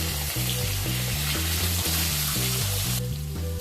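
Long-cut potato strips sizzle and fry loudly in a pan, a steady close crackle of hot oil running the whole time with no talking over it.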